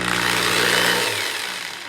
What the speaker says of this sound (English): you can spin the coin ring on the power drill and it doesn't have that wobble